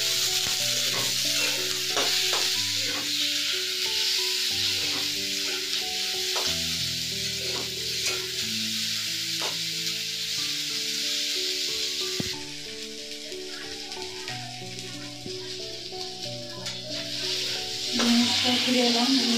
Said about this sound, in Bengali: একটা টমেটো, এটাকে আমি 2 মিনিট মতো একটু শ্যালো ফ্রাই করে নিচ্ছি।